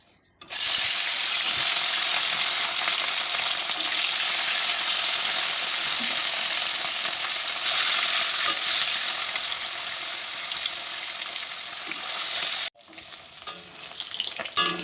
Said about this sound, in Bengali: আর এদিকটা এখনো মাছ ভাজবো